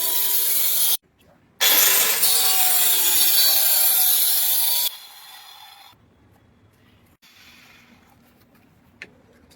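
Hand sawing of wood while building a chess board: a loud, steady rasping stroke run for several seconds after a short pause, then quieter rubbing and faint knocks with low background noise.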